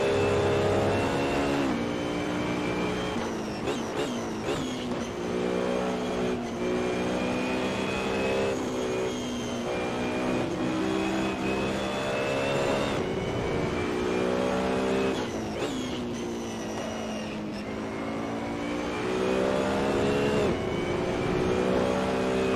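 A BMW Z4 GT3 race car in Assetto Corsa howls continuously through a hot lap, loud and close, its engine note climbing through the revs, dropping sharply on repeated gear shifts and braking, then building again, with no voices.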